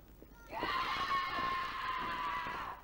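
A professional wrestler lets out a long, piercing scream in the ring during a Chickfight women's wrestling match, one sustained, steady cry lasting over two seconds above a low background rumble.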